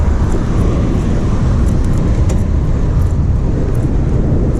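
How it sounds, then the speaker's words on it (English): Car traffic on a city street, a loud, constant broadband roar of road noise and engines heard close, with no distinct individual vehicles standing out and no talk. "Got traffic behind me, so I'm gonna speed up."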